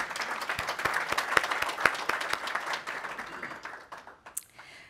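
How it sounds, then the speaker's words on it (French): Conference audience applause at an official opening day for Senegal, a moderately loud burst of many hands clapping with a few sharp individual claps, thinning out and fading toward the end. "je vous invite à applaudir de nouveau"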